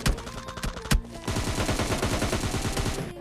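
Rapid automatic gunfire rings out during a firefight in a video game: a few sharp separate shots, then a dense, steady burst of loud, close fire that runs on to the end.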